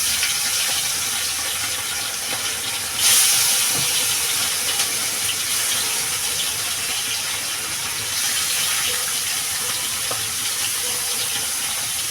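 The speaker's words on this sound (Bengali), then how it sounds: "বেশ লাল লাল করে বন্ধুরা মাছটা ভেজে নেব" Amodi fish frying in hot oil, a steady loud hiss and sizzle with a sharper burst of spatter early on, continuing alone without talk.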